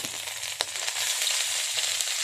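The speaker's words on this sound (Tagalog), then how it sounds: "mainit na yung kawali, may mantika mga idol. I-prito na natin yung tuyo" Steady, crackling sizzle of dried fish frying in hot oil in a pan, close and continuous, with a few brief sharper pops.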